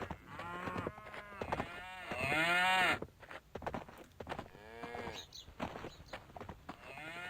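Cow in the video game Survival Craft lets out repeated loud, drawn-out moos close by, one long low call stretching nearly a second, with softer moos following.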